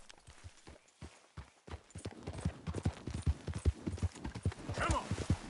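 Horse hooves clip-clop in the Red Dead Redemption video game, a rhythmic run of hoof strikes that grows denser and louder toward the end, with a brief whinny-like sound near the close.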